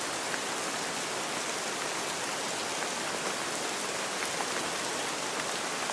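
Steady rain falls on a surface, a dense, even hiss of countless drops that stays constant and close throughout with no talking.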